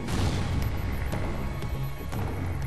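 Rumbling booms and crashing impacts from missile fire exploding against a ship in the space strategy game Faster Than Light, a dense, continuous roar with several sharper hits.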